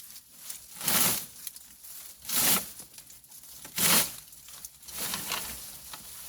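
A long cut wisteria branch is pulled through dense foliage in summer, giving repeated rustling, tearing swishes of leaves in three or four surges, close and moderately loud, with no speech.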